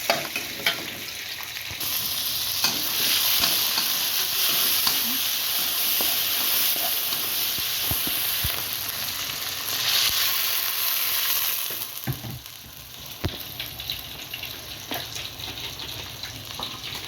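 Sliced tomato and chili hit a pan of fragrant frying onions and burst into a loud, hissing sizzle with steam. The sizzle holds for about ten seconds, then settles into quieter frying with occasional stirring knocks.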